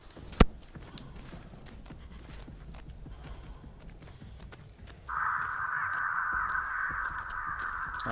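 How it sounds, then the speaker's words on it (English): A crow caws in the Dead by Daylight video game, one harsh sustained call rising out of a quiet outdoor ambience with soft footstep-like thuds, near and fairly loud. "Dang birds"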